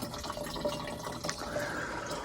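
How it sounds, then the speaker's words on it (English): Water splashing and dripping as garden plants, including marigolds and tomatoes, are watered outdoors, a steady close trickle and patter running throughout without any talk. "I'm just giving these a good old water."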